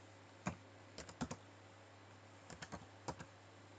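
Sparse keystrokes on a computer keyboard while writing HTML and CSS code, single taps and short quick clusters of clicks separated by pauses, close and clear with no talking.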